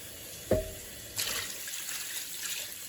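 A brief clank, then a steady stream of water pouring into a pan for crockpot beef stew, moderately loud and continuing to the end.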